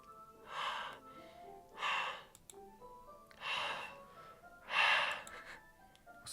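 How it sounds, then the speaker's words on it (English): Four sharp, hissing inhales drawn through the teeth come at regular intervals in Doki Doki Literature Club, each a breathy rush with quiet gaps between, close and clear against near silence. "It sounds like breathing. A sharp inhale, like someone is sucking in the air through their teeth."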